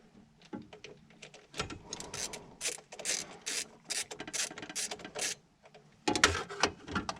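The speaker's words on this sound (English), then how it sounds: "now we need to get the nut off and not lose everything" Fast bursts of ratchet clicking come from a wrench undoing a nut on the starter motor of an R50 Mini Cooper. The clicks are close and fairly quiet, repeating in uneven runs with short pauses between them.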